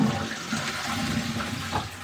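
A Geberit wall-mounted toilet flushing, with a steady rushing gush of water close by and no talking.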